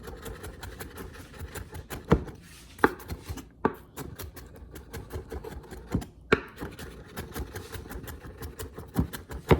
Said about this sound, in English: now that I've minced my ginger